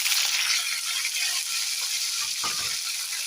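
Mustard seeds, cumin, dried red chillies and curry leaves crackle and sizzle in hot oil, a steady close frying hiss throughout with a brief louder spatter near the end, no talking.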